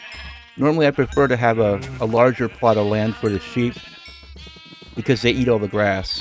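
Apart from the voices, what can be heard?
sheep bleating in video game Minecraft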